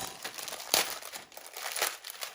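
Crinkling plastic bag, a steady rustle with a few sharper crackling bursts as it is handled up close.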